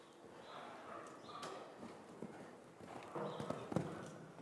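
Horse hooves clip-clop at a walk during a riding lesson, steady soft thuds mixed with arena ambience and faint voices in the background.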